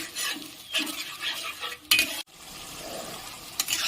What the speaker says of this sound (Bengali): এটা এবারে অনেকক্ষণ ধরে কষে নিতে হবে।